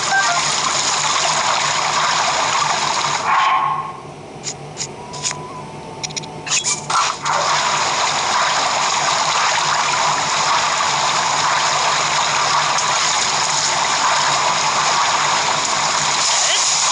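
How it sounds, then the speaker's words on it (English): A waterfall in the video game The Legend of Zelda: Breath of the Wild makes a loud, steady rush of falling water that drops away briefly midway, with a few splashy ticks, and then returns to a constant roar. "I wanted to show that you use waterfall to get here."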